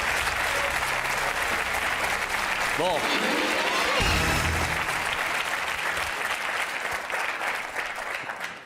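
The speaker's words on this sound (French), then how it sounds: "on vous applaudit encore, merci." A TV studio audience applauds loudly and steadily, the clapping continuing throughout, while a voice speaks briefly in French over it and the applause fades slightly at the end.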